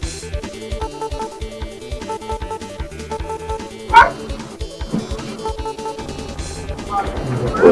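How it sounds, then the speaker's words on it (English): A pet dog barks indoors in short yips and bow-wows, with a sharp louder bark near the middle, mixed under steady background sound and voices. "I hear my dog barking"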